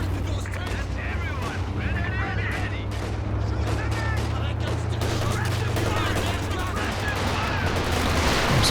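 Rapid flak gun fire in a Company of Heroes 2 battle, dense overlapping bursts of shots rolling on continuously over a low engine rumble, loud and busy throughout.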